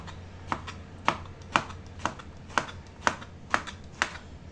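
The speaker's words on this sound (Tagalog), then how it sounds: "Ganyan na hiwa ko sa patola." A knife chops patola (sponge gourd) on a cutting board for soup, giving eight or so crisp, evenly spaced thuds about half a second apart, close and clear over a faint steady hum.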